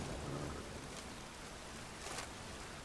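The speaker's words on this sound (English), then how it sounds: "It just rains and rains." Steady rain falls in the video game Witcher 3, a dense even hiss that fills the whole stretch with a couple of slightly stronger gusts.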